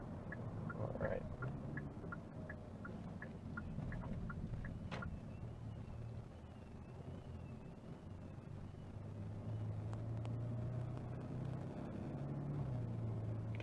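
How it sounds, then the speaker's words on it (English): Steady engine hum and road rumble from a 2022 Hyundai Sonata driving, with soft ticking near the start, continuous and moderately loud. "You can hear the car pretty good."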